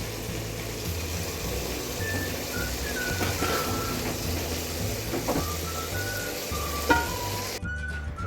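Mutton keema with kasuri methi fries in a pan, giving a steady crackling sizzle with scraping stirs over background music, cut off abruptly near the end.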